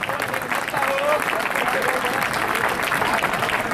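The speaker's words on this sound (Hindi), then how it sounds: "मैं इस टाइप का शाप दे सकता हूँ कि जो अभी ताली नहीं बजाएगा" Dense, steady audience applause fills a crowded TikTok fan event in Gahmar, Ghazipur, Uttar Pradesh, lasting the whole stretch at even loudness, with some voices mixed into the clapping.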